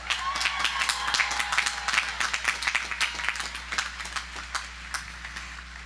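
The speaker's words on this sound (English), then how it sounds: "Let's give ourselves a round of applause." Graduates of the class of 2019 applaud themselves at a commencement ceremony, a crowd clapping that is loud and dense at first and then thins into scattered, more distinct claps.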